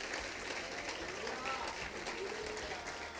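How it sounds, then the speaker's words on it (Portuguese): A church audience applauds the Lord at a worship service, a dense, sustained wash of clapping mixed with voices calling out throughout. "Tem mais um aplauso ao Senhor."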